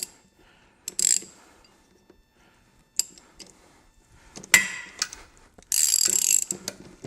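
A ratchet snugs bolts down on a boat's gimbal housing in a few short bursts of quick clicking, close and fairly quiet, separated by near silence.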